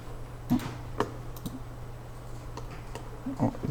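A computer mouse clicks sharply several times in a quiet room during a CAD drawing lesson, isolated close clicks spaced irregularly over a steady low hum.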